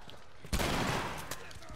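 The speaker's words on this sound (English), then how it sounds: "Ah, shot him in the fucking head." A single loud gunshot in The Last of Us video game bursts out and decays into a noisy tail, with a softer second crack shortly after.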